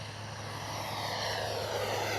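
An Arrows RC F-15 model jet with twin 64mm ducted fans sweeps past in a low pass with gear and flaps down, a steady, moderately loud whine and rushing airflow that swells slightly.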